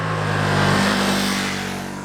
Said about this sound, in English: you get the downshift and you've already got that rum where it's matching the revs